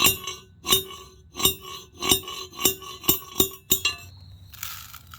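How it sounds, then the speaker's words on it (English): Gold ore rock is pounded in a metal dolly pot, giving eight sharp ringing metallic clinks in a steady rhythm that quicken slightly toward the end, close and loud, followed by a short gritty scraping rattle. "this bad boy is going in the dolly pot. I ain't going to need to do this too much. Just a couple little tapper taps should have it completely smashed up"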